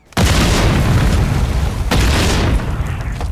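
A cruise missile strike in a first-person shooter game lands as a loud, close booming explosion, followed by a second heavy blast and rumbling debris, with no voices.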